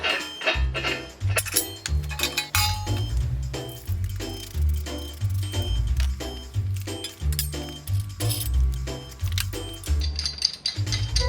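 Metal nuts and bolts for a three-point landscape rake dethatcher clink and rattle continuously as they are handled close by, with dense tapping and jingling over a low rumble.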